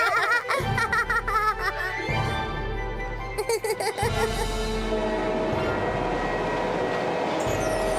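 A flying train in an animated series, heard as steady rolling rail rumble and rhythmic clatter under a music score with bursts of laughter, loud and continuous throughout.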